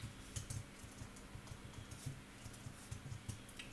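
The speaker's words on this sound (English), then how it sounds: "Here's a typewriter." Rapid, faint clicking of a typewriter being used in the Minecraft Tardis mod video game, a loose run of light keystrokes ticking along for a few seconds with no voices.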